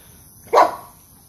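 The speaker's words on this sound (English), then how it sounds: "if you hear my dogs bark" A single sharp dog bark close to the microphone, loud and brief against a quiet background, with no speech.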